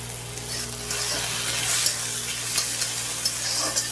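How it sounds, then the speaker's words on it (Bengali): Sliced potatoes frying in oil in a pan at home, a steady close sizzling hiss that keeps going for the whole stretch with no voices. "চলো আলুটা ভাজতে থাকুক"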